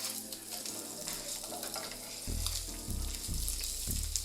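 Bacon sizzles steadily in a pan on the stove, and a few low thuds of a spoon or utensil land near the end over the constant frying hiss, with no talk.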